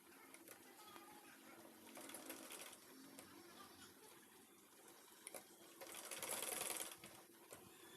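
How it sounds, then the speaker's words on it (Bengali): A sewing machine stitching appliqué petals onto a bedsheet runs in a steady whirring stitch throughout, swelling louder in bursts, with faint background noises. "আমি পাপড়িগুলি চার দাগে দাগে বসিয়ে সেলাই করে নেব"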